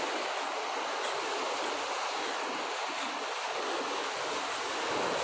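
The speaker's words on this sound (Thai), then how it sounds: "น้ำเป็นน้ำป่ากำลังไหลหลาก" Flash-flood water in Mae Hong Son's Pang Mapha district after storm Higos, a dense, unbroken roar of rushing water filling the scene steadily and loudly, with no voices.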